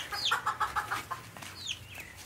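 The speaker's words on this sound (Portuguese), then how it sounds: "Olha a galinha chamando eles, ó" A hen on a farm with chicks gives a quick run of soft, rhythmic clucks, joined by high peeping calls from her young, faint and close in a quiet outdoor setting.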